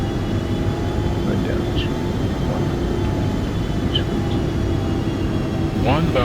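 Embraer ERJ 145XR jet engines in a flight simulator game, a steady loud turbine drone with faint tonal whine throughout, a voice talking briefly over it near the end.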